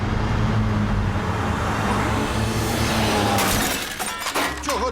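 An animated car crashes into another car, a loud sustained crunch with shattering glass and road noise, tapering off into scattered rattles near the end.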